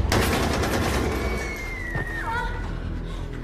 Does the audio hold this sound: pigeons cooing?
no